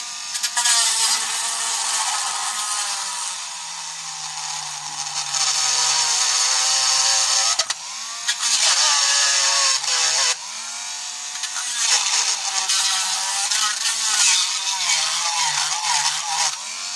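A loud, continuous high-pitched whine of a Dremel rotary tool drilling through a Nerf Stryfe blaster, with the pitch shifting as the bit bites in and eases off.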